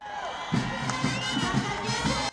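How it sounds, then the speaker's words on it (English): A huge, dense stadium crowd cheers and shouts in a roaring welcome for Prime Minister Abiy Ahmed at Ambo Stadium, with bursts of louder yelling rising and falling close by. "on earth-shaking welcome, a crowd beyond the control of the security forces"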